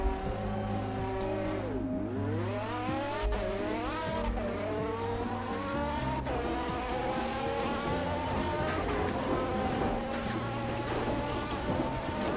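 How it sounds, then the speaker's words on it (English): A McLaren car in the Roblox game Fix it Up revs through a test drive, its high engine note sweeping up and down repeatedly through gear changes, loud and constant with brief tire squeal. "Let's go ahead and give it a test drive,"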